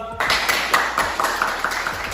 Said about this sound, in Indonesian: Terima kasih, tepuk tangan dulu lah.